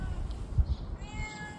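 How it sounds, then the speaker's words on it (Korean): A cat meows once, short and fairly close, at a temple site in Gyeongju, South Korea, with quiet outdoor ambience around it. "고양이들이 천국인가봐요."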